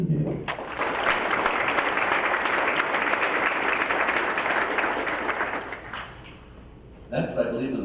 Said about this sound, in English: So let's hear a round of applause for Atrids and Gables.